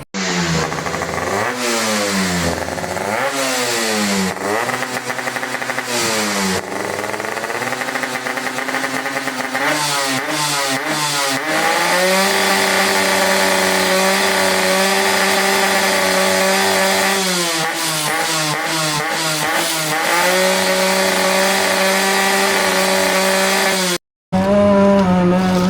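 Modenas MBX125F motorcycle engine revving repeatedly at home, loud close exhaust rising and falling in pitch through several throttle blips and sustained high revs, with a brief cutout near the end.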